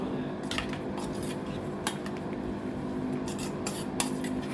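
A spoon mixes chia seeds into a smoothie, giving a steady scraping clatter of metal against a container with a few sharper clinks, continuous and close, with no voices.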